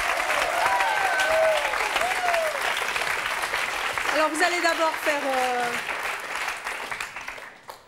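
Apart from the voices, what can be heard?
studio audience applause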